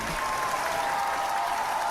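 Studio audience applauding a podcast's hosts as they are introduced, a steady, dense wash of clapping that stays loud throughout.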